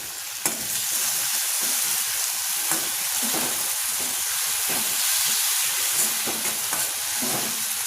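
Chopped tomato dropped into a pan of frying spinach hisses and sizzles steadily and loudly, with occasional stirring scrapes and no speech.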